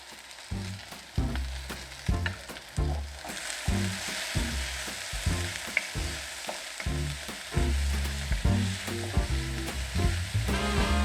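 Garlic sizzles in hot oil while making a spice bag, a steady crackling fry with rhythmic low bumps of stirring or tossing throughout, moderately loud and close, no talking.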